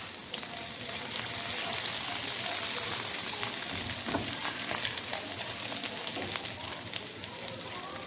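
Whole spices such as cinnamon, cloves, star anise, bay leaf and black pepper fry in hot oil in a pan for biryani, a steady close sizzle with soft crackles throughout, no talking.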